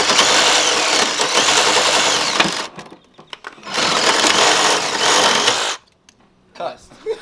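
A power tool cuts out air conditioning parts on a 2002 Mustang in two loud whirring bursts of a few seconds each, separated by quieter gaps with scattered knocks and clatter.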